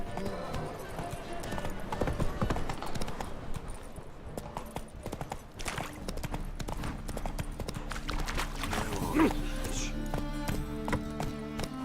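Roach the horse gallops in The Witcher 3, with rhythmic hoof clip-clops and an occasional whinny running through game music and ambience, moderately loud throughout.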